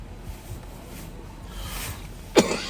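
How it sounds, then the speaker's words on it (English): A single sharp cough bursts out near the end, close and fairly loud, after a stretch of low background murmur on a live sheriff's patrol broadcast. "if you're hearing a cough, it's a quality cough."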